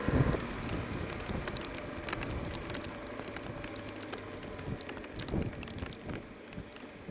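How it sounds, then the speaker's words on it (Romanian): Steady rain patters down around a BMW R1200GS motorcycle stopped in a queue, a dense, continuous hiss of drops with scattered sharper taps and no talk. "Să stăm pe motocicletă în ploaie"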